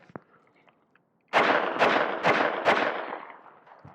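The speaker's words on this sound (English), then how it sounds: "we have some 9mm, 115 grain, full metal jacket, minimum ammunition here coming out of my Zenith ZF5" A rapid string of about five sharp 9mm 115-grain full metal jacket shots from a Zenith ZF5 striking a Level III+ armor plate, each crack trailing into a ringing, echoing tail at a range, preceded by quiet clicks.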